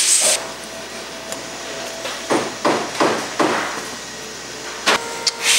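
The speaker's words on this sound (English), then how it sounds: "you can go ahead and start your self-tapping screws" A drill drives self-tapping screws into the radiator fan bracket on a 2013 KTM 250 XC-F, with several short whirring bursts close by over a quiet workshop background.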